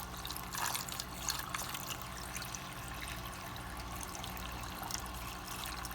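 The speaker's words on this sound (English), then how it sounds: "we're going to pour this water into here until the chamber gets full" Water is poured by hand into the chamber of a hang-on-back aquarium filter during cleaning, a steady close trickle and splash running for the full six seconds with no talking.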